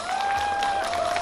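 Audience applause for the host of a local arts festival, the Biłgoraj Nuta 2011: steady, dense clapping from a crowd, fairly close and sustained throughout, with a faint tonal hum running beneath.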